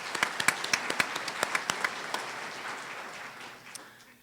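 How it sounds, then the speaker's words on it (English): Applause at a community college commencement ceremony, fairly faint and distant, with distinct claps at first merging into a brief patter that fades out within a few seconds. "What would you give him, please, a round of applause?"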